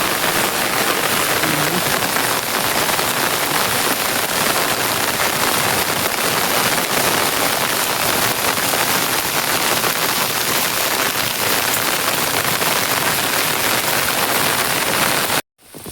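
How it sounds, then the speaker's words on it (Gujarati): Heavy monsoon rain pours down beside a swollen river and vegetable farm, a loud, dense, unbroken hiss of drops on surfaces that runs steadily for about fifteen seconds before cutting off abruptly. "હજી ચાલુ જ છે વરસાદ, કમ્પ્લીટ બંધ નથી થયો"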